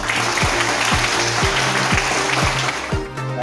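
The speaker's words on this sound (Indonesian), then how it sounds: "kali ini kita tepuk tangan keras" An audience at an interfaith prayer gathering ahead of Indonesia's 77th Independence Day claps loudly, a dense continuous burst of applause with steady rhythm throughout, close and full.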